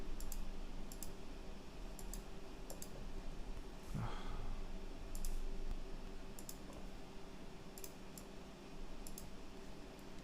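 Sparse computer mouse clicks while working in CAD modelling software, faint single ticks spaced irregularly over a steady background hiss, with a brief breathy sound in the middle and no speech.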